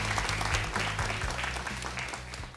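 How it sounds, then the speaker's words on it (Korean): An audience claps steadily in a TV studio at the close of a startup investment pitch, with a low tonal hum running beneath the even, sustained applause. "박수 부탁드리겠습니다"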